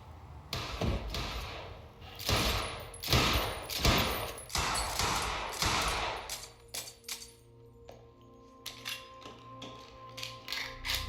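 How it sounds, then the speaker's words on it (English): Gunfire in the video game Quantum Break cracks out in a rapid series of loud, sharp shots and bursts, thinning into scattered lighter pops and taps toward the end. "I gotta check out that gunfire before I go anywhere else."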